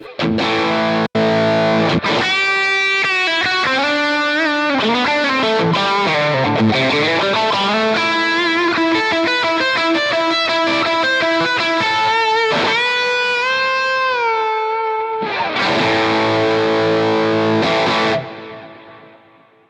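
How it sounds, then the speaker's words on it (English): Distorted electric guitar lead tone on effects patch 3, played alone as a loud, sustained melodic line with bends, a brief break near the middle and a final held chord before cutting off. "Patch number 3 is my lead tone."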